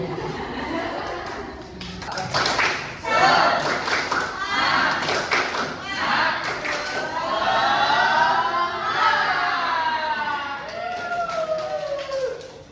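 An Indonesian school class performs a rhythmic 'tepuk semangat' clapping routine, bursts of claps mixed with chanting, laughter and lively voices of students close by.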